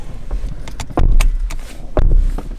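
Someone climbs back into a car with keys jangling, a door thudding shut and seat rustle, close and fairly loud with two heavier bumps.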